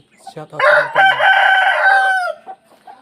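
A rooster crows loudly and close by, one long drawn-out call with a few short clucks before and after.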